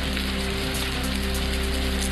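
Unseasonal rain with hail falling in the Warananagar–Kodoli area near Kolhapur, a dense steady patter on surfaces close by, with no voices.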